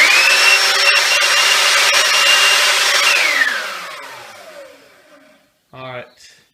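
A vacuum cleaner motor, converted into a blower fan, whines steadily and loudly at high pitch, then winds down and fades, followed by a brief rattling scrape as something scrapes against it.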